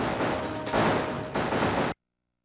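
Rapid bursts of gunfire and explosions from Sonic 3D Blast on the Sega Saturn crackle loudly in dense, overlapping volleys before cutting off abruptly.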